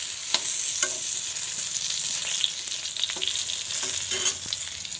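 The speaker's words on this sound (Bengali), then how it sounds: "বেগুন ভাজা" Eggplant slices fry in a pan with a steady, close sizzle, broken by a few clicks and scrapes of stirring or turning, and no voices.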